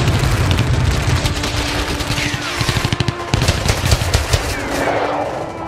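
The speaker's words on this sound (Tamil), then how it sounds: "துப்பாக்கிகளின் வெடிச்சத்தம்தான் பதற்றத்தோடு எல்லோரையும் துயில் எழுப்பியது." Rapid bursts of loud gunfire, machine-gun volleys rattling in quick succession over a rumbling background, close and intense, as aircraft bomb from above.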